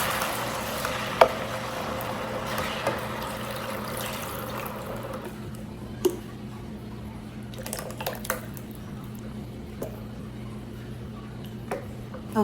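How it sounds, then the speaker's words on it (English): Water pours into a pot of turkey necks, a rushing fill at first that fades, followed by scattered clinks and taps of cookware. "I'm gonna add some water."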